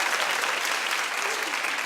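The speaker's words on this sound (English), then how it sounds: "Clap if you care." A studio audience on a talk show breaks into applause, a loud, continuous, close wash of many hands clapping with a few voices cheering inside it.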